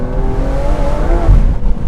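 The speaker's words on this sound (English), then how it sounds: "listen to that motor, it's angry as hell and just so sharp and savage" Sports car engine revving hard on a winding mountain road in Oregon, a loud, sharp and savage exhaust note rising and falling continuously up close.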